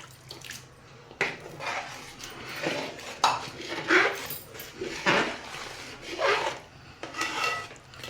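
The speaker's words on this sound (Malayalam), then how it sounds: "10 മിനിറ്റോളം ഇളക്കണം." Sago payasam with jackfruit being stirred in a pot, giving irregular metallic scrapes and clinks of a spoon against the pot, moderately loud, close and without talk.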